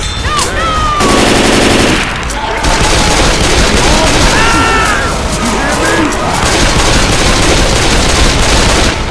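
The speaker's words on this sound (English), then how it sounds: "Keep shooting!" Heavy, continuous gunfire while shooting zombies in modded Left 4 Dead 2 survival play, loud and dense with overlapping bursts and crashes, under excited shouting voices throughout.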